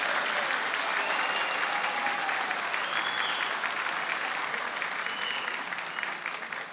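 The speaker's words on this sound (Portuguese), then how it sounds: "peço a vocês, uma salva de palmas de gratidão até agora" Sustained applause from an assembly crowd in a legislative chamber, a dense steady wash of many hands clapping that carries on evenly throughout, with faint voices and a few whistles rising above it.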